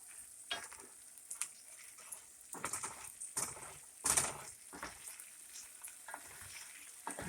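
Leftover potatoes fry slowly in a pan, a soft low sizzle broken by scattered stirring scrapes and pops, close but quiet, with no talking.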